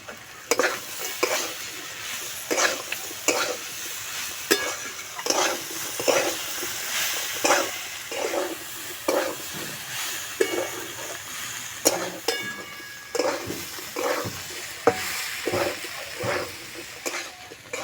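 Papaya is stir-fried with fried nuts, carrot, a little sugar and pepper powder in a pan. The sizzle is close and steady, broken by rhythmic scraping and tossing strokes repeated throughout, with no voices.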